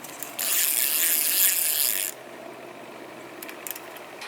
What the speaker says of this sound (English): I have a ratchet wrench I can use.